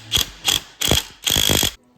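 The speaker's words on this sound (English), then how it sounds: "Maybe I just didn't tighten that nut enough, I guess. Crank the crap out of it." A hand ratchet tightens a nut on a quad in four close, crisp clicking bursts, the last longest, each a rapid run of pawl clicks with short pauses between.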